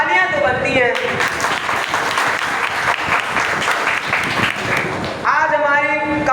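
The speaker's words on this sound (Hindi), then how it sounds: "तालियां तो बनती हैं।" An audience at an annual function Hindi play claps in a dense, loud burst lasting several seconds. Speech comes just before and after it.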